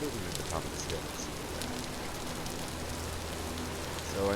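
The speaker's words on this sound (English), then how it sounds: "Yeah, it started in rain." Steady rain falling across the world of the video game Vintage Story, a constant hiss that continues for the whole stretch with no break and no voice over it.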